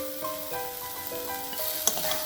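Spiced masala with kasuri methi fries in a pan for a Bengali tangra fish chorchori with winter vegetables, giving a steady close sizzle with light stirring scrapes beneath sustained tonal background music.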